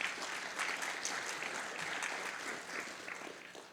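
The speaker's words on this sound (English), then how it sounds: "Please give your school your university a round of applause." A university audience at Bowie State gives a steady, full round of applause, clapping continuously from start to finish at a panel discussion.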